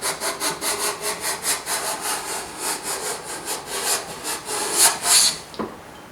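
A scraper plane is pushed over wood in a long run of regular rasping strokes, roughly two per second, each a bright airy shaving sound, near and fairly loud, ending with a brief clunk.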